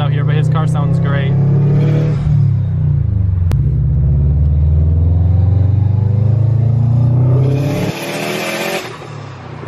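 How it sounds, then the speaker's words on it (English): Subaru car engine revving loudly and steadily up close, a deep sustained rumble running through most of the stretch before dropping off near the end, with people talking over it. "I don't know if I have any Subaru lovers out here, but his car sounds great."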